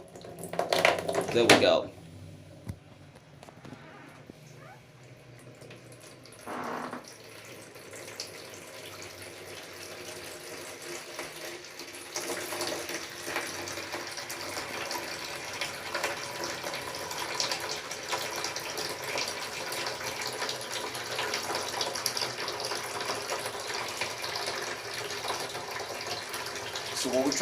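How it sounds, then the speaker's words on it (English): A Grundfos twin impeller regenerative booster pump runs as water pours into an 11 liter bucket, a steady loud rushing gush after a few clicks and a short remark, continuing unbroken and slowly building. "we're going to see how long it's going to take to fill up this 11 liters bucket"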